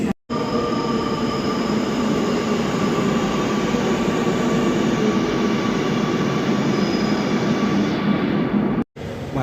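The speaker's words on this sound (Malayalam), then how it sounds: "ഞാൻ ഇപ്പുറത്ത് വന്നപ്പോഴത്തേക്കും ഒരു മെട്രോ പോയി കേട്ടോ." A metro train runs past a station platform with a steady, loud roar and rumble of wheels and a faint high squeal, continuous and close throughout, no voices.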